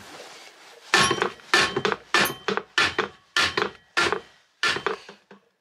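A hammer strikes a joint on a Mitsubishi L200 prop shaft about ten times in steady succession, each blow sharp and close, with brief gaps between hits.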